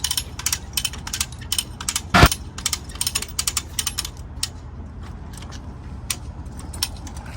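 A come-along power puller's ratchet clicks repeatedly as it is worked to tension a line, a close, steady run of sharp pawl clicks with one louder clunk early on, then lighter, more spaced clicks.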